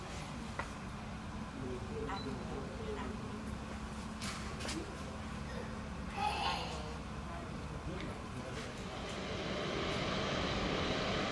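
Aircraft engine hum from a VC-32A, a Boeing 757-based jet, being pushed back by a tug at Noi Bai airport in Hanoi, a steady moderate drone with a few scattered clatters and a rising swell near the end.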